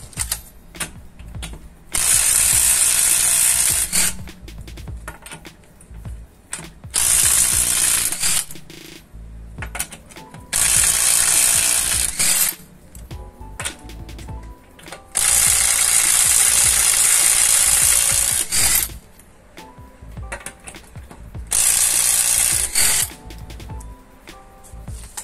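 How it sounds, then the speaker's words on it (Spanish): An impact wrench with a 22 mm socket removing the rear wheel lug nuts on a 2010 Honda Odyssey, with five loud, close bursts of rapid hammering, each lasting two to four seconds and separated by short pauses with no talking. "Para quitar la rueda vamos a utilizar una llave de impacto con un dado 22 milímetros."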